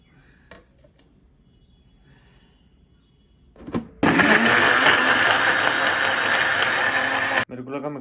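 A kitchen mixer grinder suddenly switches on, a loud, steady whirring roar lasting about three and a half seconds before cutting off abruptly, after a stretch of quiet room sound.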